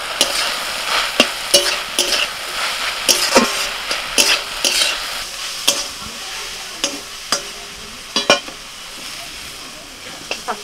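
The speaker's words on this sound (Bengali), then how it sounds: "শাকটা ভাজা হয়ে গেল।" Chopped water spinach (kalmi greens) stir-frying with onion, salt and turmeric in a pan: a constant sizzle broken by sharp, repeated spatula scrapes and knocks against the pan, close and fairly loud.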